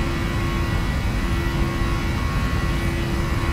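Boeing 737 jet engines in the PMDG flight simulator spool to takeoff thrust, a steady, loud roar with a constant whine running unbroken throughout, no voices.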